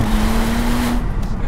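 Bentley Mulliner Bacalar roadster engine and exhaust under way, a loud continuous roar with a steady tone that fades near the end, heard close with no talk.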